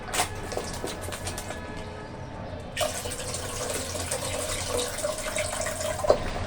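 Tap water runs steadily into a sink while a bottle gourd is rinsed for cooking, a soft continuous splash that grows fuller partway through, with small knocks and a brief clink near the end.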